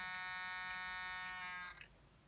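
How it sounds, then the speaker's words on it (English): A steady electronic warning buzzer in an American muscle car drones evenly for under two seconds as the key is turned, then stops, leaving a faint low hum. "Wait for that buzzer to go off."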